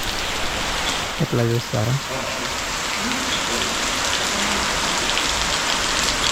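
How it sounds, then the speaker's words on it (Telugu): Rain pouring at a hillside temple, a steady dense patter filling the scene, loud and close, while someone speaks briefly near the start. "ఇంకా వర్షం పడుతుంది, ఇంకా హైలైట్గా కనిపిస్తుంది టెంపుల్ అయితే"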